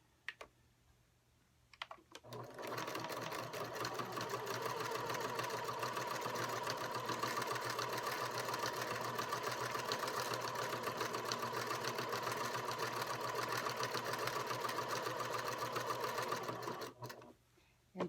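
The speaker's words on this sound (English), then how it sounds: "I'm going to pull it out a little bit, and I'm going to stitch the other side." A sewing machine stitches a fabric basket in one long continuous run, a rapid, steady mechanical chatter lasting about fifteen seconds, close and even, starting and stopping abruptly with quiet before and after.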